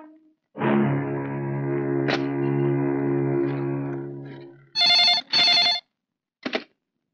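A telephone rings in a dramatic Hindi action film scene: a long sustained tone with a warbling echo effect, followed by two loud electronic trill bursts and a short final ring, with no voices.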